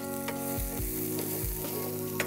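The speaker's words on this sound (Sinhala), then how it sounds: "මේ ඉතාම තෙල් අඩු ප්‍රමාණයක් එකතු කරේ අපි ලූණු ටික බැද ගන්න" Onions frying in a small amount of oil for a jackfruit-seed and moringa-leaf stir-fry, a steady close sizzle broken by a few low stirring scrapes.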